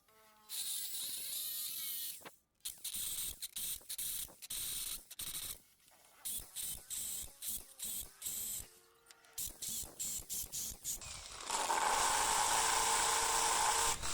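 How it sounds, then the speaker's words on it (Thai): A drill whines in repeated short bursts drilling holes in a concrete block, with brief pauses between them, nearby and loud, ending in a longer continuous grinding run. "วิธีเจาะเลยเจาะตรงที่มันมีช่องว่างตรงนี้นะครับ"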